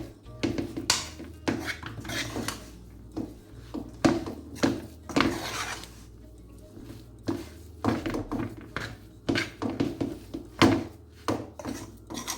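Flour being stirred a little at a time into sweet potato pudding batter in a bowl for a traditional Jamaican pudding, heard as repeated close thunks and scraping rubs of a spoon against the bowl in an irregular rhythm.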